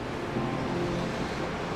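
Steady broadband rush of water where a river meets a fjord near high tide, constant and close, with no voices over it.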